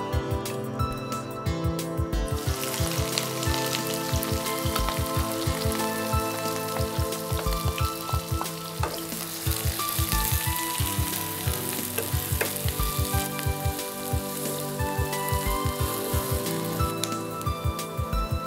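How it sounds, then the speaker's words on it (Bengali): Onions frying in hot oil for a goat liver bhuna with potato and garlic, giving a loud, dense, continuous crackling sizzle close by, with rapid spattering pops throughout and no voices. "তেল গরম হয়ে গেছে, এখন পেঁয়াজ ভাজব"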